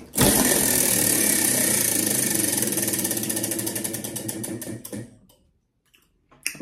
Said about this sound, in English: I'm going to spin the wheel